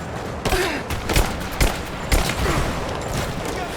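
Rapid gunfire in the video game Rise of the Tomb Raider, repeated sharp shot bursts and volleys cracking over a busy combat din, loud and close.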